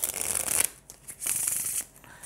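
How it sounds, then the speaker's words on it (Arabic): Playing cards shuffled for a card trick, two close riffling bursts, crisp fluttering rattles separated by a brief pause, without speech. "بعد ما خلص نرجع بنقلب هالفرقة اللي معنا هون، بنخلطها بهالفرقة."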